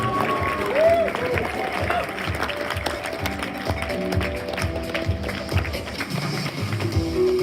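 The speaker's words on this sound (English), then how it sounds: "Give Giancarlo a nice big round of applause" Wedding reception guests applaud in a hall, uneven clapping under a lively room with scattered voices and a few tonal sounds, moderately loud and steady throughout.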